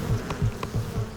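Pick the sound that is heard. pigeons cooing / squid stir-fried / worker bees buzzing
worker bees buzzing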